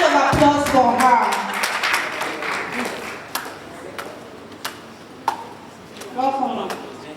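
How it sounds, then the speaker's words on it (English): An audience at a women's legal forum summit applauds a speaker reaching the podium. A burst of clapping thins into scattered claps, and a voice speaks over the start and end. "Please, hand of applause for her."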